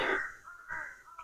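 A crow gives a few harsh, rasping caws in a row, fairly close, against a quiet outdoor backdrop at Nilachal hill in Cumilla.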